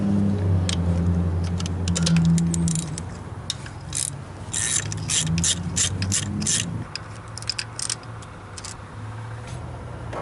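Ratchet wrench backing out 10mm bolts on a Chevy 5.3 Vortec LS engine, a close, busy run of rapid clicking pawl bursts with brief pauses between strokes and no talk.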